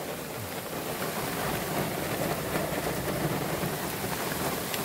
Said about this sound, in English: Well, everybody, it started raining.